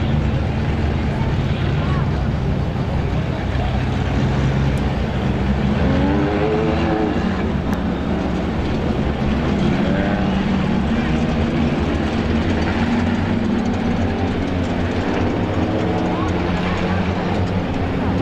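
Race cars in a Roadrunner feature at Star Speedway roar around the track, a dense continuous engine drone with passing pitch sweeps under crowd noise and a public-address announcer.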